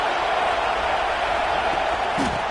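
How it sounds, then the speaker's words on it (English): Stadium crowd at a football game swells with a loud, dense roar of many voices and cheering during a red-zone defensive stand, steady throughout with a brief louder whoop near the end. "here comes the noise. This crowd is trying to inspire this defense to make a big red zone stop"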